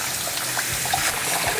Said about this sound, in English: we're going to wash it under the tap, just under regular cold water, and we're going to wash it until it comes clean.